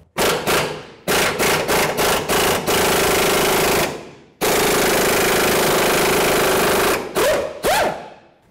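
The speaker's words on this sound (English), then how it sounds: "Let's remove this 19mm headed bolt." A powered wrench loosens a 19mm bolt on a 2003-08 Toyota Matrix front lower control arm. Several short, loud rattling bursts give way to two long continuous runs, then a few brief final bursts as the tool spins down.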